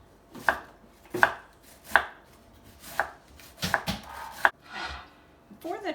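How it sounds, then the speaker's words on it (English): A knife slices thinly through a purple cabbage on a cutting board for coleslaw, giving a series of crisp, separate chopping strokes spaced about a second apart, close and fairly clear, then a short scrape at the end. "I want to thinly slice 2 cups of that cabbage"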